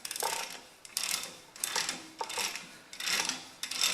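Ratchet clicking in four quick bursts as a 1 1/16 socket works a bolt loose on the lower pin of a Ferguson tractor's back end, close and crisp with short pauses between strokes.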